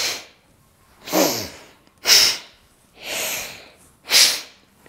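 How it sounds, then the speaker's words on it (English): Saline water sniffed forcefully up the nose, then exhaled: five loud, close nasal bursts about a second apart, alternating wet inhaled snorts with breathy exhales, no talking. "Sniff in and then exhale."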